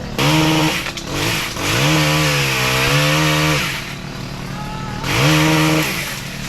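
A chainsaw cutting into a walnut tree, loud and close, its engine revving up and down in several long bursts with idling gaps between cuts.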